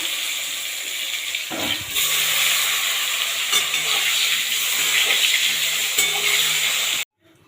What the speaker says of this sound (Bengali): এবার ওই তেলেই আমি এই বেগুনগুলো লম্বা লম্বা করে পাতলা করে কেটে রেখেছি একটু হালকা ভেজে তুলে নেব